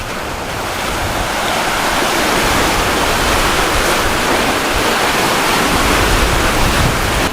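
Wind-driven waves on Yellowstone Lake producing a continuous loud broadband wash of surf and splashing, mixed with wind buffeting, steady throughout with no voices.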